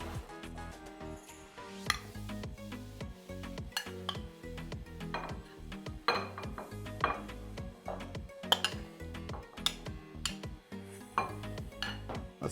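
Ingredients tipped into a pot for pina carnitas tacos: pineapple, coconut and pico de gallo, with repeated clinks and scrapes of utensils against cookware and a faint sizzle underneath, no talking.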